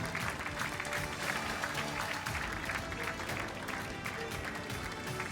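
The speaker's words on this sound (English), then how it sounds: "let's give a big round of applause" An audience applauds steadily in a hall after the 10m air pistol mixed team final at the European Championship in Wroclaw, Poland, a continuous, fairly faint, even wash of clapping.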